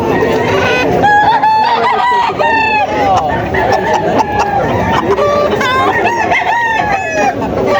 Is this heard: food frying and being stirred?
no